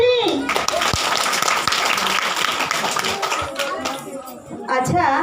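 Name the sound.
loud clapping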